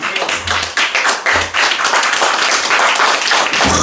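A church congregation applauding during a service, with loud, dense, steady clapping from many hands throughout, close and sustained with no speech.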